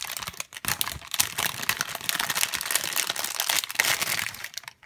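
Plastic wrapping crinkles and crackles as it is pulled off a handmade candle, close and busy, in irregular bursts of sharp rustling that continue throughout.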